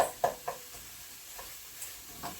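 Greens cooking down with onions and chorizo in a pan, a handful of soft scraping stirs spaced out over a faint, steady sizzle.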